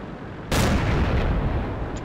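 Artillery fire in a tank video game: a sudden loud boom breaks in at once and holds as a broad rumbling roar that slowly fades, with no talk.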